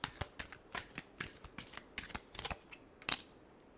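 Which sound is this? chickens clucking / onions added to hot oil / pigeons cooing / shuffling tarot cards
shuffling tarot cards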